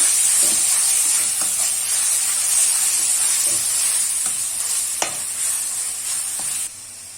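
Turmeric, Kashmiri red chili powder and salt are stirred into hot oil in a pan for a spicy mutton curry, a constant sizzle with occasional scraping strokes of the spoon and a sharp clink near the end.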